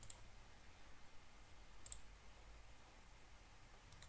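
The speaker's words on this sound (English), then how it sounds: "If I click here," Computer mouse clicks while testing a React Native mapping app: three faint, sharp single clicks spaced a couple of seconds apart over a quiet room hum.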